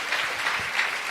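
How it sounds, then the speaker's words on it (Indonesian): Applause from a church congregation, a brief burst of many hands clapping with a dense, slightly uneven texture, moderately loud and without talk. "Berikan tepuk tangan kita untuk Tuhan."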